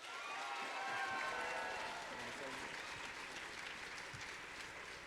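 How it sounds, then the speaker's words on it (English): Convention audience at Everfree Northwest 2022 bursts into sustained applause with some cheering voices, a dense crowd roar that holds steady throughout. "So give yourselves a round of applause."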